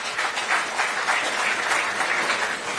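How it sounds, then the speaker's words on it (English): Sustained applause from an audience at an official bridge launch ceremony, many hands clapping in a steady, even wash throughout, with slight swells in loudness. "A round of applause indeed for our presidential speakers."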